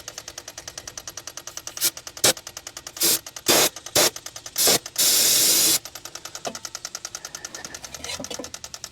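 Starting fluid being sprayed into a 1984 Chevy Citation engine while it cranks, with a steady rapid starter churn under sharp bursts and one long hiss of spray.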